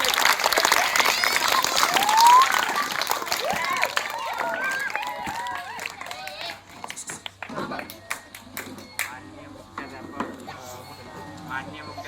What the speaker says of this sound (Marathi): जोरदार टाळ्या आपण स्वागत करूया